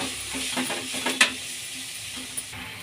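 A spoon stirs lentil and grated coconut curry sizzling in a pan, with steady frying hiss, soft scraping strokes and a couple of sharp clinks, and no talking.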